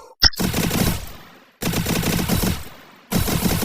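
Automatic gunfire in the mobile shooter Free Fire, fired in three loud, rapid bursts of roughly a second and a half each, separated by short gaps, with a sharp single shot at the start.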